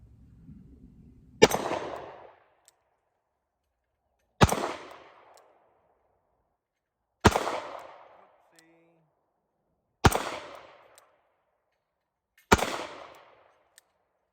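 Five single-action shots from a Smith & Wesson Model 60-14 LadySmith revolver, .357 Magnum/.38 Special, fired outdoors at small four-inch targets, each a sharp loud crack with a short decaying tail, spaced about three seconds apart.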